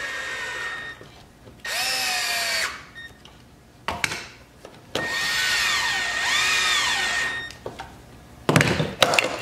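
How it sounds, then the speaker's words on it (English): A power drill drives 1.25-inch fine-thread pocket hole screws into a wooden face frame, several separate whirring bursts that rise and fall in pitch as each screw seats, with short pauses and small handling knocks between them. "drive your pocket hole screws"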